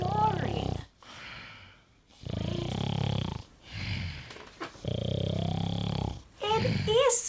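A storyteller reading a story about a sleeping bear voices long, rasping snores, several drawn-out breaths separated by short pauses, close and clear, imitating the sound of a bear snoring.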